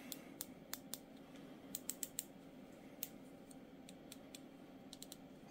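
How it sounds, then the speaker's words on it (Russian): Crisp, sharp clicks from the turrets of a CVLIFE EagleFeather 1-6x24 LPVO rifle scope being turned, quiet and close, coming in irregular runs of single clicks with short pauses between them. "Клики четкие."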